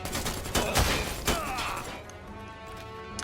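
Player's gun firing in the Predator video game, two or three quick loud shots close together, then fading into quieter game ambience.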